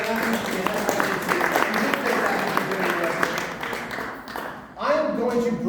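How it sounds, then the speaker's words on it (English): A magic show audience claps for a volunteer, moderate scattered applause running under a talking voice, then tapering off. "Give her a round of applause"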